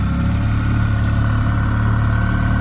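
Yamaha 9.9 High Thrust four-stroke outboard motor pushing a boat, a steady low mid-speed drone with a constant hum and no revving, loud and close.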